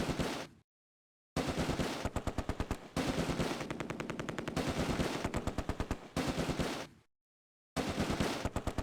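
A Vickers machine gun fires in the WWII video game Close Combat: A Bridge Too Far, with loud, rapid rattling bursts broken by short silent gaps, close and clear, no voices.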